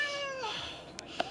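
A fat, upset cat lets out one drawn-out, wavering meow close by, followed by a couple of short sharp sounds.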